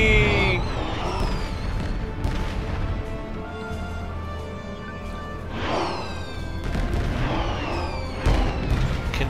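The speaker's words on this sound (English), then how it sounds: "Firework time! Whee!" Fireworks going off in the space game Star Trek Online, a series of booming bursts and crackling whooshes spread across the stretch, fairly loud and unaccompanied by talk.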